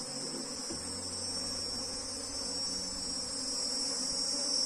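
Continuous close drone of numerous forager honeybees around an open hive, a steady buzzing that swells slightly toward the end, with a faint bump near the start and no talking.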